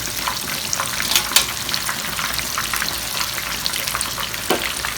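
Loud, steady sizzling and crackling of breaded pork cutlet deep frying in hot oil, continuous throughout with occasional sharper pops.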